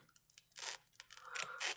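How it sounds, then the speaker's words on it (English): Scissors trim the excess edge from a handmade custom patch, giving a few quiet, crisp snips and cutting rustles in short bursts, close to the microphone. "you're then going to take your scissors"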